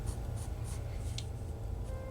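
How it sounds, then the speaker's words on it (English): A pencil tip scratches lines onto paper while sketching an animal's back, a close, soft, continuous scraping with short repeated strokes and a faint steady low hum beneath. "you can use the tip of your pencil now and really define those lines"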